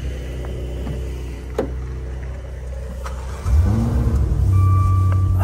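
A car engine idles with a steady low hum, then revs up and settles into a louder, deeper running rumble, close by with no talking.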